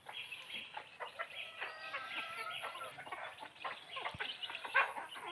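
Newly hatched chicks and hens on a poultry farm keep up steady, high peeping with scattered clucks, moderately near and fairly quiet throughout.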